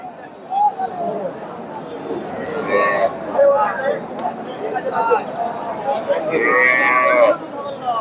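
Cows moo repeatedly at a busy cattle market in Bogura, Bangladesh, where native dairy cows and calves are traded; several long, loud lowing calls stand out amid crowd chatter and people talking nearby.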